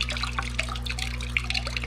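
Water drips slowly from a pinched siphon tube into a container while fish are being carried for an aquarium. Small, close, irregular drips and trickles patter over a steady low hum.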